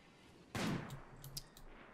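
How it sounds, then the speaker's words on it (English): A single sharp gunshot from a colonist skirmish in Rimworld, faint overall, followed by a short decaying tail and a few quieter pops. "Ah, shots have finally been sent out."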